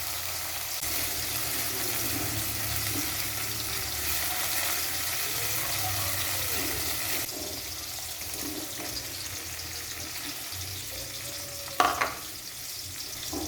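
Chili and shallots stir-frying in a pan on a home stove, a continuous close sizzle with scraping stirs, then a sharp clatter near the end.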